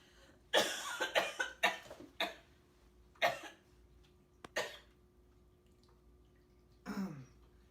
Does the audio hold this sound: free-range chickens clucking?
no